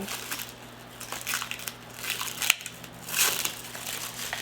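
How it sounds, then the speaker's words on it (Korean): Plastic film being pulled off the box of a nail drill, giving soft crinkling and crushing rustles in irregular bursts, with a sharper crackle midway, close up and quiet with no talk. "일단 비닐을 뺏길게요."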